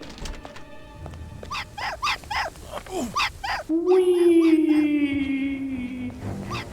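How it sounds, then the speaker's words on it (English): An upset dog in Hitman Blood Money howls and whines in a long, wavering tone that follows several shorter yelps, all fairly close and loud over a game backdrop. "Since the dog is understandably upset that his owner is dead now"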